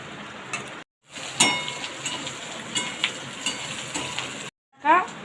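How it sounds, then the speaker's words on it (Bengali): Onions and green chilies fry in oil with a quiet, crackling sizzle, broken by clinks and scrapes of a spatula against the pan and two short dropouts. "তেলের সাথে ভালো করে ভেজে নিচ্ছি"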